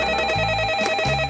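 A telephone rings in a French TV program, a steady electronic ring with sustained tones that cuts in and out in short bursts, fairly loud and close with no talk over it.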